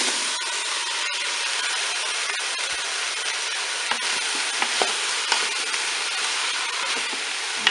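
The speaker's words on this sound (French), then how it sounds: "On va ajouter maintenant tous nos légumes." Diced vegetables and ham sizzling as they are tipped in and stirred in a Cookeo multicooker pot, a steady dense frying hiss with scraping stirs and small knocks, close and loud, no voices.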